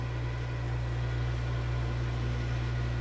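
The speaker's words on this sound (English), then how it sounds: "This is the motor itself. We're turning 650 RPMs idle." An electric motor idles at 650 RPM, giving a steady low droning hum with strong tonal bands and a faint noisy hiss, constant and unbroken with no talking.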